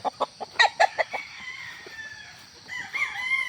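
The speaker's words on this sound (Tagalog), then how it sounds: "Ito mga pure hens natin." Pure gold hens and a rooster at a gamefowl farm give a quick run of sharp clucks, followed by a drawn-out crow, all close and fairly loud.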